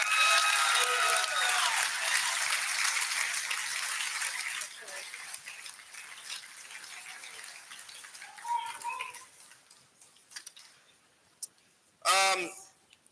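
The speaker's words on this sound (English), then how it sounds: "Let's give another round of applause for that." Audience applause fills a hall of fame ceremony for St. Louis amateur hockey, a dense steady clapping that gradually thins and fades, ending with a few scattered claps and brief voices.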